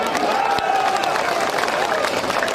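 A large crowd claps and cheers at an outdoor political rally in Kishanganj, a dense, continuous roar of clapping with voices mixed in.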